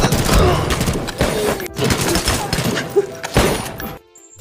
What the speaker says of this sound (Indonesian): Adu tembak pun terjadi.